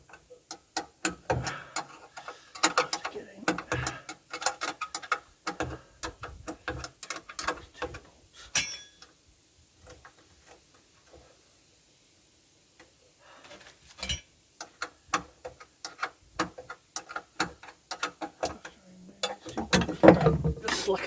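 Ratcheting wrench work slackens two bolts on a Yanmar VIO55 excavator during a blower fan replacement, rapid close clicking bursts separated by a quiet pause, then more ratchet clicks and metallic handling.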